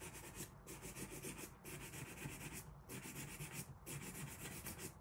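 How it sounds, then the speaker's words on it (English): A nail file rubs paint off a small gnome in steady, rhythmic back-and-forth strokes, a faint, close scratchy rasp with brief pauses between passes. "But I do have a nail file up here."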